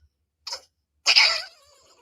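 A voice imitates Donald Duck sneezing up close: a short breathy catch, then a longer, raspy, squawking sneeze that trails off in a thin nasal tone. No other sounds.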